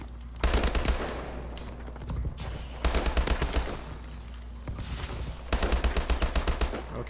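Bursts of rapid automatic gunfire in a shooter video game, three dense volleys separated by short pauses, loud and close with no talk.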